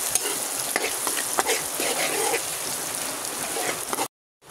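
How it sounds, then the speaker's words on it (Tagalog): Ginger, garlic, onion, chili and shrimp cube sautéing in a pan, a steady close sizzle with stirring scrapes throughout, cutting off abruptly near the end. "nagisa ko na siya. Luya, bawang, sibuyas, sili, at saka shrimp cube"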